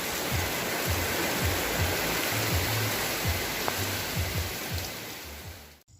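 Water poured onto a Luna Red hardy hibiscus plant outdoors, a steady close splashing rush running for about six seconds before cutting off abruptly.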